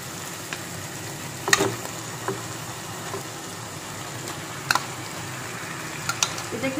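Marinated chicken meat hits a pan of spice paste that has been fried until the oil separates, for a Bengali chicken curry; a steady soft sizzle runs throughout with a few sharp pops and spatters.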